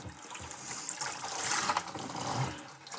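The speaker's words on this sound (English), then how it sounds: "I will rinse it one last time just to be on the safe side with really, really hot water" Really hot tap water runs into a bucket being rinsed for beer-brewing sanitization, making a steady, close splashing rush that swells and eases slightly over a few seconds, with no talking.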